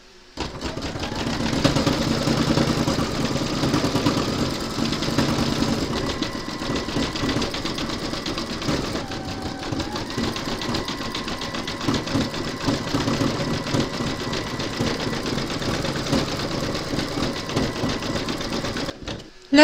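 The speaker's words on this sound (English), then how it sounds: "that's going to zigzag the edges and then do the satin stitching" On a gingerbread house embroidery project, a sewing machine runs zigzag edging and then dense satin stitching, a continuous close mechanical hum with a fast needle beat, holding steady for nearly twenty seconds.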